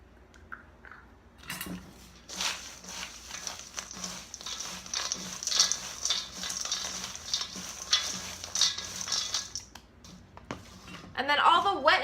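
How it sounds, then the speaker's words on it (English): Dry granola bar ingredients, including oats, being stirred together in a mixing bowl, giving a steady rustling scrape that runs for about eight seconds, close and moderately loud. "All the dry ingredients are going into this bowl to get mixed together."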